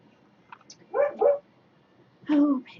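A dog gives three short barks, two close together and then one more after a pause, from nearby in a quiet room.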